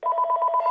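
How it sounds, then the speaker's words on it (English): A telephone rings with a rapid, trilling electronic ring, loud and close, in one burst of under a second with no voices. "Once the phone started ringing,"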